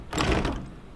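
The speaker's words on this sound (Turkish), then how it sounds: "Üstümüze kapıyı kilitlediler" A door being locked in the Resident Evil 7 video game, with a single short, heavy mechanical clunk and rattle of the door, close and loud, that fades quickly, with no talking.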